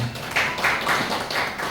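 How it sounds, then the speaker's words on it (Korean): Audience applause at a poetry book launch, a dense steady patter of clapping from a crowd in a hall, sustained and fairly loud throughout with no talking. "뜨거운 박수 부탁드리겠습니다"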